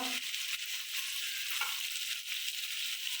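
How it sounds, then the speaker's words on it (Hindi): Half a spoon of cumin seeds fries with chicken in a pan, a soft, even sizzle throughout with faint stirring noises. "हाफ स्पून के बराबर जीरे को भी थोड़ा सा साफ भून लेंगे अच्छी तरह से"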